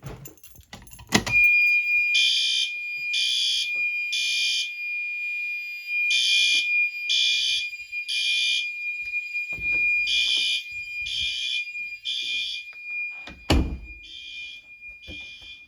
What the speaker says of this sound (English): Yes, that's a horn strobe.